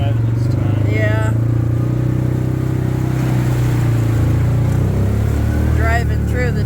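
A four-wheel-drive vehicle churns through a flooded irrigated field in Clover Valley, Nevada, its engine droning loud and steady beneath continuous water splashing, with voices talking over it.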